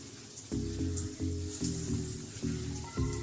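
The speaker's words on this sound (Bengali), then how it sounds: "এই যে আমি ব্রেড ক্রাম্বসে সব করে নিয়েছি, কর্নফ্লাওয়ারে ডুবিয়ে, এবার এটা তেলে দিয়ে দিচ্ছি" Rohu fish and egg cutlets, coated in cornflour and breadcrumbs, sizzle in hot oil in a home kitchen, with a steady crackle and several pulsing surges of frying noise close by.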